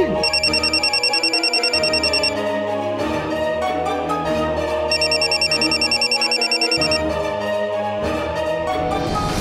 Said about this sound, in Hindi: अपनी पत्नी के बेहोश होने के बावजूद भी बंका जिसका फोन उठाने पर मजबूर हो गया था